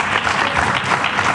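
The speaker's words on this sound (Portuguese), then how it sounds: "Então, vocês, por favor, batam palmas." Brief, dense burst of audience applause at a gathering in Madrid, a steady wash of many hands clapping with no gaps, fairly loud.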